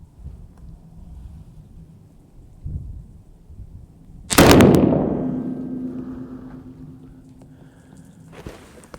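A single loud rifle shot from a Savage 110 fired at the range, a sharp blast at mid-clip followed by a long ringing decay, with quiet background before and after.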